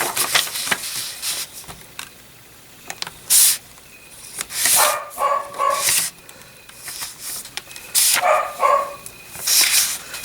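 Punky the dog barks in repeated bursts, loud and close, with short quiet gaps between clusters of barks and a few faint scuffs in between.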